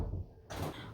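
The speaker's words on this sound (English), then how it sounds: "Close the door for me." A door at home is pushed shut in one short, muffled close with a soft thud, alone and with no talking.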